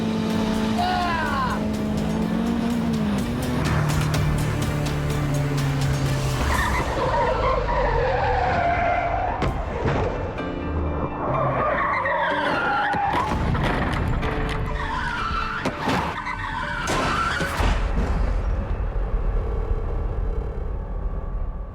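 Car skidding while balanced on two wheels on a test course, loud continuous tire squeal and engine roar with wavering screeches, people shouting and cheering over it throughout.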